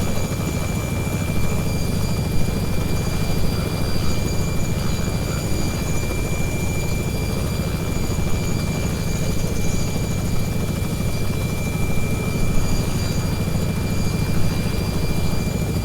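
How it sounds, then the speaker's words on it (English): A Robinson R66 turbine helicopter lands on a helipad, a loud, steady drone with turbine whine and rapid rotor chop, continuous and close throughout. "and gently lower the helicopter"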